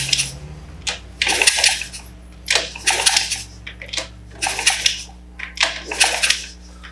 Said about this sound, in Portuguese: esse barulho é de compressão, então aparentemente tem compressão no motor